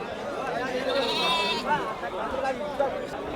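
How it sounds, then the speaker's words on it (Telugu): Goat kids bleat repeatedly at the Tuesday goat market in Kadiri, their wavering cries mixed with nearby crowd chatter and voices. "మేక పిల్ల ఎట్లా చెప్తుంది"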